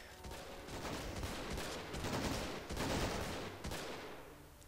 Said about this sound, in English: the allies are firing at the enemy.